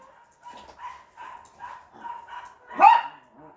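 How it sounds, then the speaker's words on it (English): A dog barks repeatedly in a quick, uneven series of short yips, building to one louder, sharper bark near the end before a final softer one. "Sorry guys, dog barking again."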